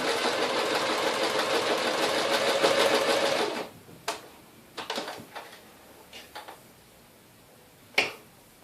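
A sewing machine stitches a zigzag in a steady, close whirring run for several seconds, then stops, followed by scattered clicks and taps of handling.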